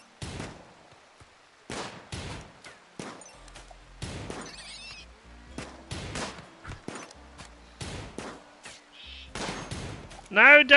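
Colonists in Rimworld fire guns in sharp, separate shots spread across the stretch with uneven gaps, mixed with faint clatter and a few crashes, while a voice talks between the bursts.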